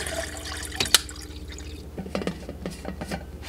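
Water filling a drinking bottle from a tap in the morning, a soft, steady trickle and drip with brief louder splashes, close and fairly quiet, no talking.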